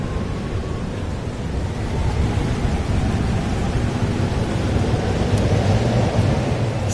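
Thunderstorm in the Life Is Strange Double Exposure video game: a loud, steady broadband roar of rain and rumbling thunder fills the whole stretch, with no voices.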